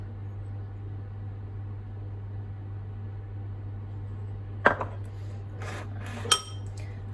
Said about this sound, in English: Mix it in to the biscuit crumbs